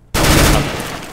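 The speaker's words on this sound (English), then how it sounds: "Flashbang." A flashbang grenade going off in Counter-Strike: Global Offensive, one sudden loud burst after a brief silence that stays as a bright hiss and slowly fades.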